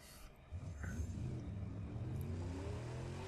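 Engine of a car taken over in the Mad Max video game, revving up after a short quiet lead-in and then holding a steady loud rumbling drone to the end.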